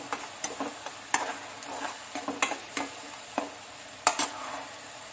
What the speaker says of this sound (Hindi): इसको गोल्डन ब्राउन होने तक भूनेंगे।